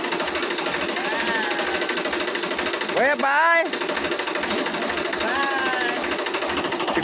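A tractor engine runs steadily nearby with a continuous mechanical chug and vibration, while people talk briefly over the drone.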